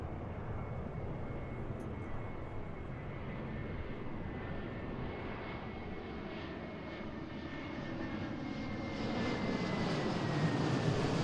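Airbus A321neo jet landing at Seattle airport, a continuous broad engine roar with a faint whining tone that swells slightly louder near the end, heard from a distance with wind noise and no talk.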